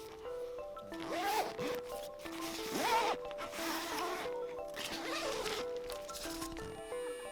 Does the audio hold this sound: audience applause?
no